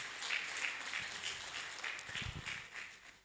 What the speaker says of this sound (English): let's jam hands together let's give them a round of applause.